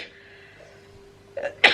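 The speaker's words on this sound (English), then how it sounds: "Mummy's having a wee sneeze" One sharp sneeze from a woman comes near the end, preceded by a brief catch of breath over a quiet room hum.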